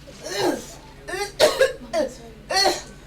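A woman's few harsh coughs in short bursts, close and fairly loud, with brief pauses between them.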